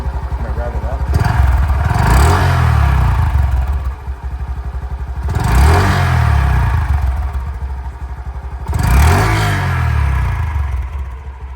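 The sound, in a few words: Honda Dax 125 motorcycle revving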